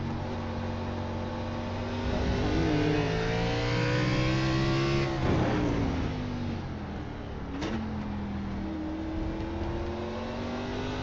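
Race car at Circuit of the Americas held on throttle, its loud engine drone climbing and easing through gear changes with a sharp shift blip near the end, heard from on board with no talking.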